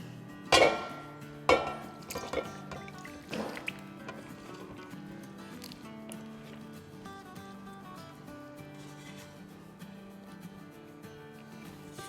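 Cooked mutton in karahi-style garam masala is served out of a pressure cooker, with a few sharp metal clinks and scrapes of a spoon against the pot early on, then softer handling sounds over a steady low background.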